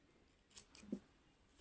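Scissors snip through crochet yarn in a few quick, faint, close cuts, with light handling noise around them and no speech.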